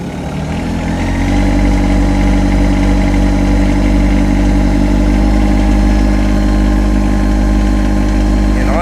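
A Yanmar SA324 compact tractor, in low range and four-wheel drive, revs up to 2,000 RPM, its diesel engine rising within the first second and then holding a loud, steady, vibrating drone close by.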